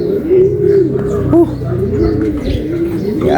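Racing pigeons cooing close by, a steady series of low, throaty coos overlapping one another, loud and near, with faint chirps and a voice briefly in the background.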